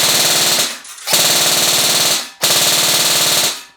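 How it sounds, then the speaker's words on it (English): A Specna Arms SA-C10 airsoft rifle fires full auto in three long bursts of rapid, even mechanical clatter, loud and close, with brief pauses between the strings. "we are in full auto for the next gun here for the C10"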